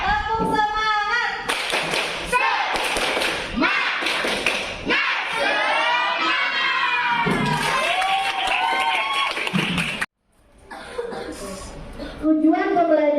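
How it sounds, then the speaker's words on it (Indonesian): A classroom of Indonesian schoolchildren shout a rhythmic, spirited clapping chant together, loud and close, with bursts of claps and thumps under their voices and a short pause near the end before the chant resumes. "kita tepuk semangat dulu ya"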